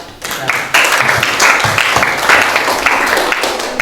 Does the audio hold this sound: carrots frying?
no